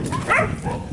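Dogs bark in Jamaica, a short burst of yelping barks close by, mixed with a human voice talking over them.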